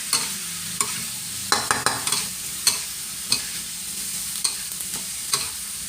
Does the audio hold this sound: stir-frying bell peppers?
yes